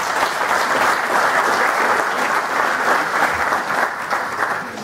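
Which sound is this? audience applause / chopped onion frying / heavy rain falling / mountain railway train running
audience applause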